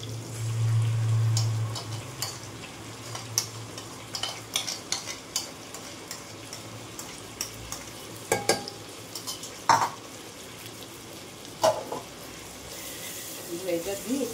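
Marinated chicken and shrimp fry in a pan with a quiet, steady sizzle, while scattered clicks and scrapes of a utensil and occasional lid or pan knocks punctuate the stretch.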